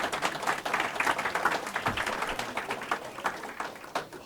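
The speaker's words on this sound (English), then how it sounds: "Let's hear a round of applause for Dan Proft." An audience claps in a sustained round of applause at a talk, steady dense clapping from start to finish with no voices over it.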